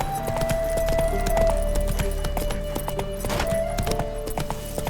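A horse in The Witcher 3 video game gallops with loud, close, rapid clip-clop hoofbeats that run steadily through the clip, with a possible brief neigh and no clear speech.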